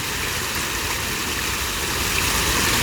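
Water rushes in a steady, dense hiss without pause, fairly loud and close, with no voices over it.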